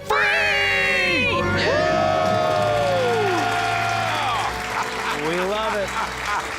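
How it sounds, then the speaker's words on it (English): Loud audience screams and cheers erupt right after a countdown to celebrate becoming debt-free, with shrill whoops and overlapping shouted voices sustained for several seconds. "Let's hear a debt-free scream."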